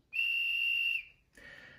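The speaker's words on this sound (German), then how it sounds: "Dann haben wir noch einen Schaffnerpfiff." A conductor's whistle from a model train sound decoder gives one shrill, steady blast of about a second, followed by a short, softer breathy trill.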